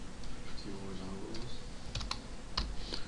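Keys clack on a computer keyboard while Java code is typed, a scattering of sharp clicks with brief bursts near the end, over a low steady background hum.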